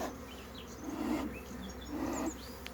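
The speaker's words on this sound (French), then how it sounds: "Il y en a des milliers d'abeilles." Thousands of honey bees from a swarm being hived hum in a dense, continuous drone, with the buzz swelling twice as the insects move close by.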